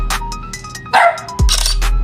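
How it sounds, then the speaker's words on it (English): A dog barks sharply several times indoors, loud close yips and woofs in short bursts separated by brief pauses, with a steady electronic tone humming underneath. "No barking, Henry"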